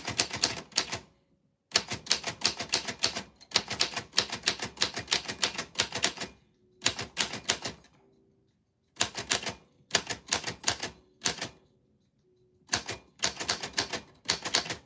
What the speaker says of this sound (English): I'm supposed to be typing.